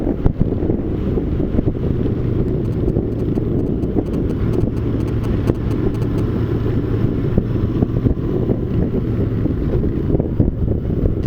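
A Triumph Bonneville motorcycle cruises and pulls away smoothly at speed, its low steady engine drone buried under constant heavy wind buffeting on the microphone for the whole stretch.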